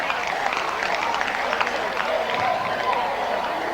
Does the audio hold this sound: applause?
yes